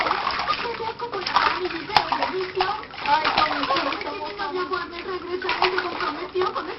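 A small child splashes and sloshes water in a bath, a continuous busy slapping with someone talking and a voice over it.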